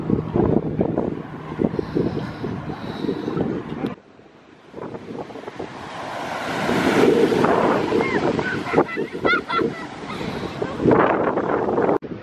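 Surf washing in on Santa Monica beach with gusty wind buffeting close by, waves swelling and breaking across the stretch, with a voice and a few birdlike calls scattered over the roar.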